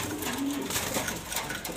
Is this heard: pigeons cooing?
yes